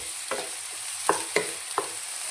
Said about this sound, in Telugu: టమాటా ముక్కలు అయితే వేసుకోవాలి. బాగా ఫ్రై చేసుకోవాలండి.